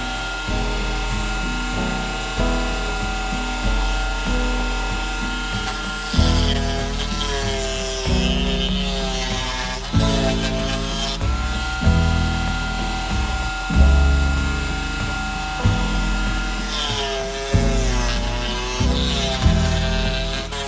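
An electric jigsaw mounted in a homemade jigsaw table saws through wood to cut out a Christmas tree shape. The cuts come in repeated bursts of buzzing with brief pauses between them, loud and close, and there is no speech.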